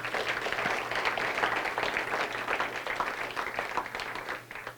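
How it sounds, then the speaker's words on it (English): Sustained crowd applause at a startup demo day event, dense steady clapping filling the whole stretch at even loudness, with no talk over it. "So I think now is an appropriate time to give them another round of applause"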